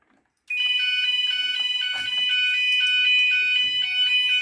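Gent Vigilon fire alarm sounding during a system test, loud and close, starting abruptly after a short silence and repeating a rapid warbling electronic tone pattern steadily.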